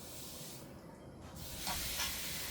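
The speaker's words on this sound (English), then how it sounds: "very little sizzle" A steak set in a pan, giving a faint, low hiss of sizzling that swells slightly toward the end, quiet and close with no talk.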